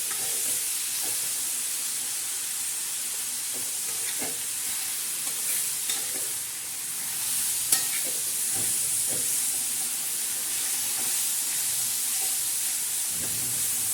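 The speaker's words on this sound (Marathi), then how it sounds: "तर आता मस्तपैकी असं पुन्हा एकदा परतून घेऊया. त्याला असं छान असं परतून घ्यायचं." Pathri, a monsoon wild green, stir-fried in a pan, giving a loud continuous sizzle and hiss close up, with soft scrapes of a spatula throughout.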